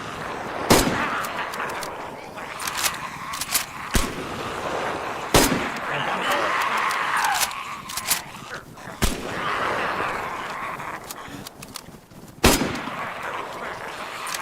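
Gunfire in the video game DayZ: several sharp, loud shots ring out at irregular intervals over a steady background of game ambience.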